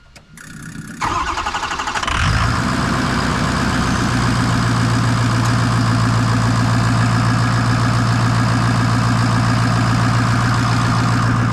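A 6.0 Powerstroke diesel engine fitted with a KC Jetfire turbo cranks for about two seconds, catches, and settles into a loud, steady, close rattling idle with a constant drone, no talking.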